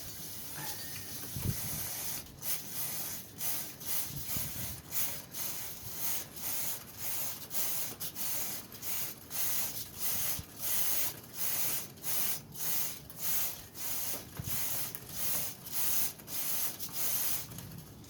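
Chain cleaner sprayed onto the chain of a Honda CBR500R motorcycle in a long run of steady, evenly spaced hissing bursts, close and fairly loud, with no talk.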